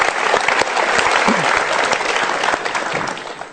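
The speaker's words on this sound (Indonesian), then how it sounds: "Kita berikan tepuk tangan untuk 2 orang ini." Loud, dense studio audience applause on a televised motivational talk show, a full sustained roar of clapping with some crowd noise as two guests step onto the stage.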